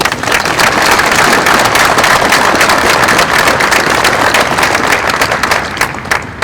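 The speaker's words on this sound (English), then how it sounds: "They deserve a huge round of applause" A large crowd gathered outdoors for a marathon monument unveiling bursts into loud, dense applause for Red Cross volunteers, a steady roar of clapping that holds and then eases slightly at the end.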